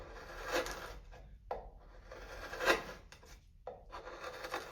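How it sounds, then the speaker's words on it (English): A hand gouge carves pocket holes into wood, working in from either side, giving repeated close scraping and rubbing strokes in uneven bursts with short pauses between cuts. "With a gouge, we're going to work in from either side."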